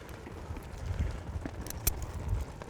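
A horse's hooves thud softly on the ground during a stretching exercise, faint irregular steps in a windy outdoor setting.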